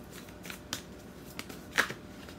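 Tarot cards drawn from a deck make soft, close papery slides and flicks, several brief scattered swipes over a quiet background with no talking.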